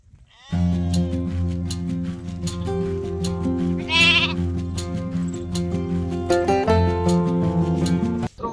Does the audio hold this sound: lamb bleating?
yes